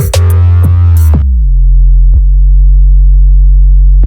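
Ableton synth bass tone pitched at 44 Hz with sine-fold saturation, a loud sustained low hum that settles into a steady drone after a brief swept, harmonic-rich opening, with a couple of short clicks.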